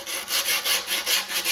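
Coarse grip tape sanded around a skateboard deck's edge in steady back-and-forth rasping strokes, about eight close, even passes with no talk.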